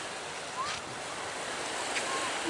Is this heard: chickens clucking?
no